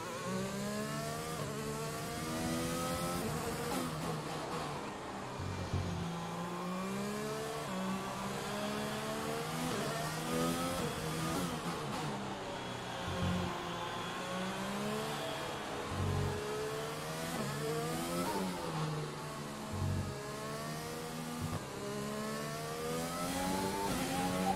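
Race car engine in a Singapore Grand Prix racing video game, a continuous loud whine rising and falling through gear changes and revs over the whole stretch, with no talking.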